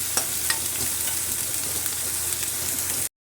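Onion and leftover masala with roasted tomato being stir-fried in hot oil, a steady close sizzle with light spoon scrapes and taps, then cutting abruptly to silence.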